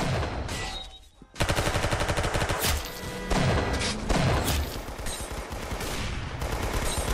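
Loud, dense bursts of rapid video-game gunfire on the Arsenal map, with rattling automatic volleys and single sharp shots, continuing almost without pause from the second second onward.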